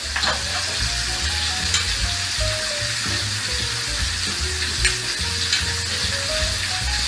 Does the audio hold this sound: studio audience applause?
no